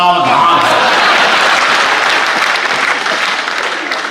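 Loud, dense audience applause at a live Hindi comedy show, starting full and gradually thinning toward the end, with no talk over it.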